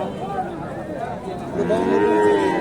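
Friesian cattle at a busy livestock market in Bogura, Bangladesh, lowing loudly over steady crowd chatter and market noise, with a long drawn-out moo swelling near the end.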